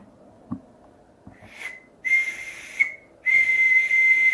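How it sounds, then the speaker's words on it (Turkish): A wooden boatswain's whistle blown in three rising, shrill bursts, each a steady high piercing tone, the last held longest, close and clear after a few faint handling taps. "Buna gemici düdüğü de diyorlar."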